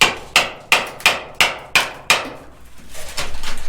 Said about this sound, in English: when I'm hitting it with the chisel